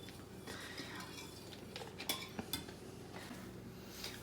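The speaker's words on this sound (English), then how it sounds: "All right, Logan, you ready to keep mixing? Mix it up real good." French toast batter flavored with vanilla is mixed in a bowl, making quiet clinks and scrapes of a utensil against the dish. A few sharper taps come near the middle, all faint and without talk.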